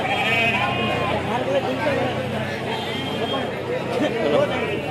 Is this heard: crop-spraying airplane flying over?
no